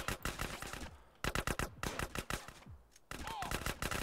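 Rapid bursts of gunfire in the video game GTA San Andreas, loud and close, with repeated sharp shots in clusters and brief gaps, under intermittent background sound.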